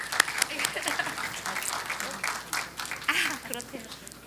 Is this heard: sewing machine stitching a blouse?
no